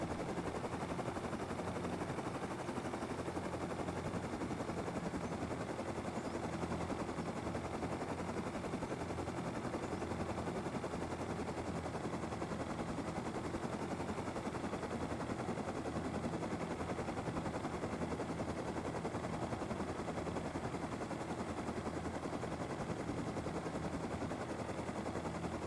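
A helicopter flies in the survival game Rust, a steady, dense rotor and engine roar that holds at the same level without a break and fills the whole stretch.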